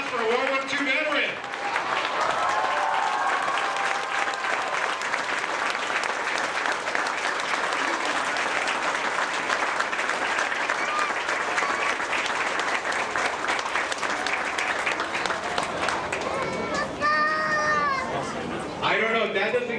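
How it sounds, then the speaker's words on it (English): Sustained audience applause in an indoor hall at a 2013 veterans celebration, honoring a World War II veteran: dense, steady clapping from a large crowd lasting the whole stretch, with children's voices and chatter mixed in. "Let's give a round of applause for a World War II veteran."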